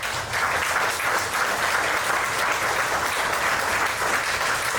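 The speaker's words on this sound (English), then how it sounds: "Let's give these boys a round of applause" An audience at a Scout troop's Eagle Court of Honor applauding the boys who lit the candles, a loud, sustained wash of many hands clapping, constant from start to end.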